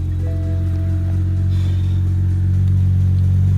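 A turbocharged car engine running E40 fuel idles with a deep, steady rumble, swelling slightly as it revs, heard up close with no voices.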